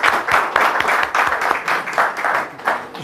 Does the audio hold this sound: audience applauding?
yes